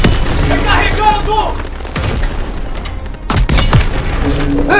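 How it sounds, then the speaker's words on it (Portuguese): In the Call of Duty WWII video game, an enemy tank is destroyed by explosions. Loud booms and gunfire thud through a dense battle din, and voices are heard. "Tanque inimigo destruído!"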